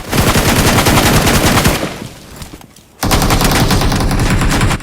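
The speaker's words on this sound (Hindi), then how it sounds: "अंधे में गोली चला देती हूँ" Loud, rapid automatic gunfire in sustained bursts from the battle royale game BGMI, with a brief pause before another burst resumes.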